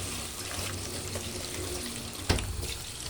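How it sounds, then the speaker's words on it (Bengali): Water lily flowers are washed in a basket under running water, giving a steady close splashing and trickling wash with a brief louder slosh near the end. "আমি এখন এগুলো যে ঝুড়ির মধ্যে ধুয়ে নিচ্ছি।"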